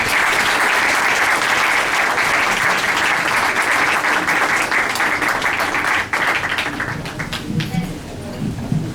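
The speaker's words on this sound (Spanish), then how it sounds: "A ver si le damos un fuerte aplauso." An audience at a family mediation conference claps in a loud, dense, sustained round of applause that thins slightly toward the end, with faint voices mixed in.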